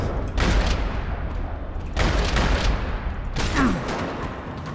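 Dense, muffled slow-motion gunfire from the video game Max Payne 3 during bullet time, with three heavy swelling bursts over a continuous rumbling roar.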